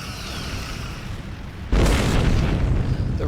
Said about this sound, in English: You shoot 2 torpedoes.